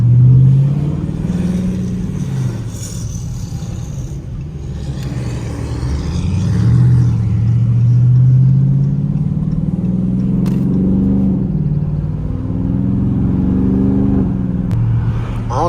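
Dodge Scat Pack engine pulling hard on an early-morning drive, a loud, close, low growl rising and falling through several surges of acceleration with no talking.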